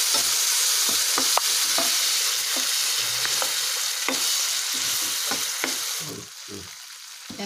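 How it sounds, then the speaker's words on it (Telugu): Spices with turmeric and yogurt sizzle steadily in a hot pan while a spoon scrapes and stirs in irregular clicks, close and alone without talk; the sizzle thins toward the end. "పసుపు వేసి ఫ్రై చేసుకోవాలి. తర్వాత పెరుగు వేసుకొని మిక్స్ చేసుకోవాలి."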